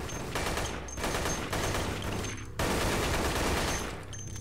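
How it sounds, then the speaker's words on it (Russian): A shootout in the video game Dead Effect 2 produces continuous rapid gunfire, long automatic bursts with a couple of brief breaks, loud and close and filling the whole stretch. "Потрясающая перестрелка."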